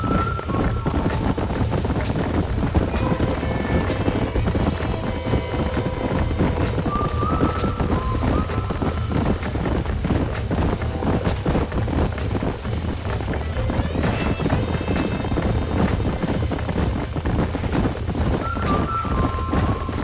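Horses gallop and clip-clop continuously on a ranch in the Red Dead Redemption video game, with hooves pounding steadily and occasional whinnies over wind.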